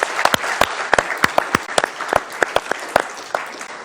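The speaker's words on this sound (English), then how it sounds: "one more round of applause for all the winners from 2020 and first quarter of this year" Scattered applause at a police awards ceremony, with sharp individual claps standing out irregularly over a thinner bed of clapping, fairly close and crisp.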